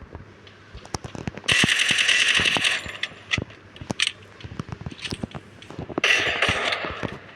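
Gunfire in a video game while aiming for headshots comes as sharp close shots, singly and in short bursts, with bright hissing swells between them.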